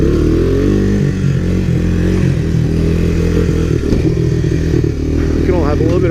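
Honda ATV engines, a 1985–1986 Big Red and a 1985 ATC250SX three-wheeler, run steadily and rev on a trail ride, a loud continuous droning roar with shifting pitch and some clatter throughout.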